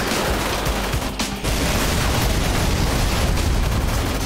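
Gunfire in the GTA 5 video game, a dense, loud and continuous barrage of shots with a brief dip before it resumes unbroken.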